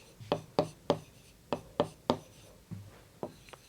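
Chalk or marker strokes writing out a maths solution on a board in a class lesson, about nine sharp taps and scrapes in an uneven rhythm, close and clear with no talking.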